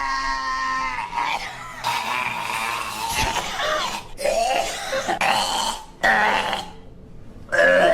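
A human voice imitates a sudden, harsh cough with a string of rough, throaty bursts and gasps, close and fairly loud, breaking off and restarting several times.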